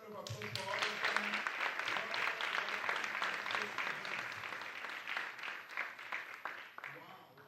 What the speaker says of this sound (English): can you give me a round of applause for all of them?